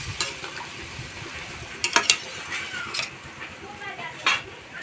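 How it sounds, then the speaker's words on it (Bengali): Rohu fish curry gravy is stirred in a pan on the stove, with scraping spoon strokes and clinks against the metal over a soft simmering hiss, while a voice speaks nearby. "একটু ভালো করে নেড়ে চেড়ে দেবো।"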